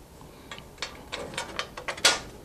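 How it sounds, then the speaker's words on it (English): Quarter-inch, 20-thread steel bolt being fitted into a steel sculpture: a quick series of small metallic clicks and ratcheting taps, close by, ending in a brighter clink. "I'm going to put the bolt here"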